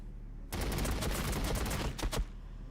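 Heavy fire support gunfire in Warhammer 40,000: Battlesector, a sustained roaring fusillade of rapid shots that starts abruptly, rattles on for under two seconds with a few final cracks, then stops.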